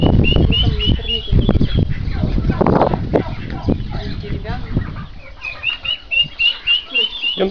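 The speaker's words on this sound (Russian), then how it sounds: "Там вообще птичий двор, да. Там столько гусей." Geese in a poultry yard at the Nikoreni monastery farmyard give repeated nasal honking calls, close by and loud, mixed with clucking fowl, while people talk throughout.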